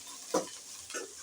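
Fried okra (bendakaya) being stirred in a pan over a soft sizzle, with two quick scraping strokes of the spoon close by.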